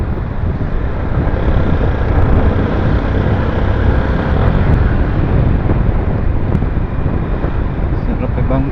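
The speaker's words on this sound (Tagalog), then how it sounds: "ang motor na ito lalo siyang lumalakas habang tumatagal" A Yamaha Sniper 155 motorcycle engine runs steadily while riding, a continuous loud rumble blended with heavy wind rush across the microphone, holding even intensity throughout.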